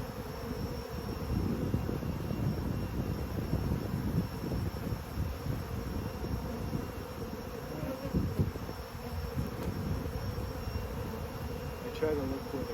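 A dense, continuous buzz of honeybees swarms close around an open hive during an inspection, steady throughout with faint wind noise.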